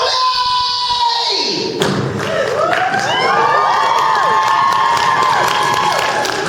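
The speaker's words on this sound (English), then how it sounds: "I feel like that applause was a little late." At an anime convention panel, a crowd erupts into cheering and applause right after a voice actor's performance, with a burst of clapping, whoops and shouts building and continuing loudly as voices call out over it.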